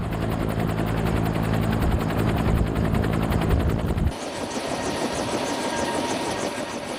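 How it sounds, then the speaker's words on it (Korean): A Cobra military attack helicopter runs loud and close on the ground as it prepares to lift off, its rotor thumping steadily under a dense turbine roar, with the tone shifting partway through; no speech. "드디어 코브라 헬기가 지상에서 발걸음을 떼려고 한다."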